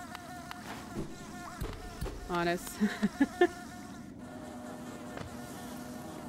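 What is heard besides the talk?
buzzing insect enemies in the video game Hollow Knight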